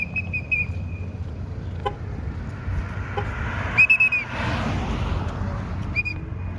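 A parking attendant at a $5 lot on a road trip toward Niagara Falls blows a shrill whistle in short bursts, three sharp blasts spaced over a steady hum of outdoor traffic.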